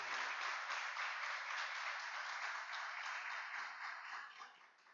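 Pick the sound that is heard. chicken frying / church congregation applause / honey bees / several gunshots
church congregation applause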